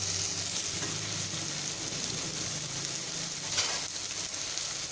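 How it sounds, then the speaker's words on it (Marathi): Tomato sautéing in a pan for a fresh cashew curry, a continuous close sizzle and hiss with faint stirring, no voices. "हे 1 मिनिटभर असे परतून घ्यायचे आहे। त्यात टोमॅटो शिजू द्यायचा यात।"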